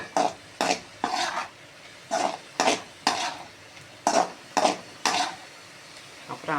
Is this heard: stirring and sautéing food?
yes